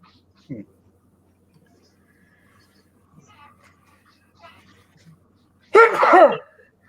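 After a few faint scattered noises, a single loud sneeze bursts out near the end, close to the listener.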